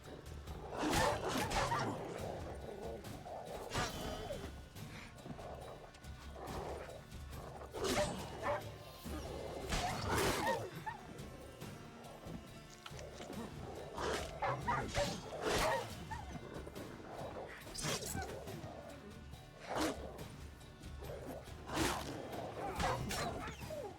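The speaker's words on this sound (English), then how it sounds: "So these stray mutts form packs." A pack of stray dogs in a video game barking, yipping and whimpering in repeated bursts, moderately distant and fairly quiet, with faint talking mixed in at times.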